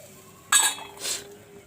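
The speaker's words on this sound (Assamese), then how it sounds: "এতিয়া মই ঢাকন মাৰি অকণমান সময় কাৰণে থৈ দিছোঁ" A lid set onto a cooking pot while soybeans and plantain simmer in yogurt: a sharp metallic clink followed by a second softer clatter a moment later, close and alone over faint background hum.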